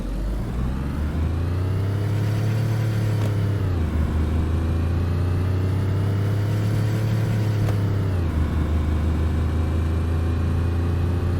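A car in the survival game DayZ accelerates hard. Its engine drones loudly and climbs in pitch, drops at two gear shifts, then pulls on steadily, with no talking.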